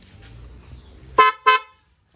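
Two short, loud blasts from a car's dual horn in quick succession, rising abruptly over a low idling engine rumble, then silence.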